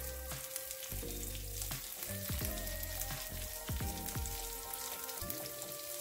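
Buffalo chicken quesadilla, low carb, browning in a hot pan with a steady, close sizzle and crackle, broken by occasional scrapes and pops of the tortilla being shifted.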